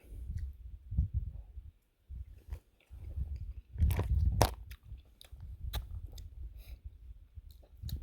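Close, wet chewing and biting sounds come in irregular bursts with small clicks as someone eats pasta mixed with beef taco filling and Rico's nacho cheese sauce.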